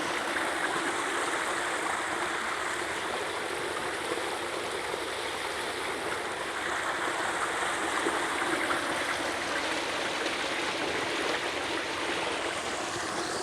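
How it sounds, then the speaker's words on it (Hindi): Water gushes from a tubewell pump on a farm in the morning, a strong, continuous, close rushing flow like a stream, steady throughout with no talking. "माशाअल्लाह सही ज़बरदस्त पानी है ट्यूबवैल का।"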